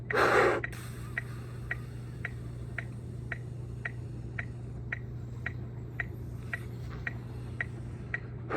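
One sharp, loud inhale opens a deep-breathing drill from a marching band's at-home lung workout. Steady metronome ticks follow over a low hum, and any slow exhale stays faint.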